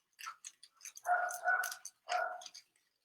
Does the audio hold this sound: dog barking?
yes